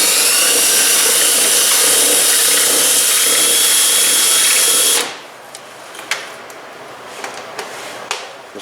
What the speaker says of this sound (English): we're using the 9/32 drill bit